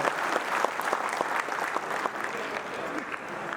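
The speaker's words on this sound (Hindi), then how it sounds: "मैं आप सब लोगों से आग्रह करूंगा कि जोरदार ताली के साथ उनका स्वागत करें, अभिनंदन करें।" Sustained audience applause greeting a guest at a BJP political gathering marking Bhairon Singh Shekhawat's birth anniversary, a dense steady wash of many hands clapping loudly throughout.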